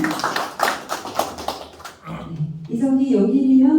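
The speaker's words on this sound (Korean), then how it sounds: "하나의 박수 부탁드리겠습니다." A burst of clapping at a book launch ceremony in Hongcheon, dense and fairly close for about two seconds before fading, after which a person speaks.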